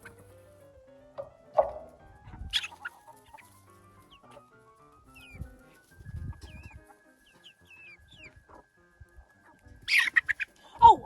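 Adult hens and young chicks feed on scraps outdoors, giving scattered soft clucks and a few sharper squawks, with a long thin peep rising through the middle and a louder flurry of calls near the end.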